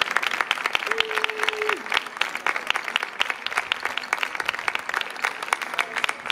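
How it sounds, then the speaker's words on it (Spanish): An audience claps at a music event in Terrassa, with individual claps standing out as sharp, rapid hits against a lively crowd. A sustained tone and some faint voices sit underneath. "Un aplaudiment per elles"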